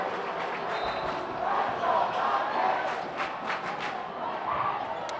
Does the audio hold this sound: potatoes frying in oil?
no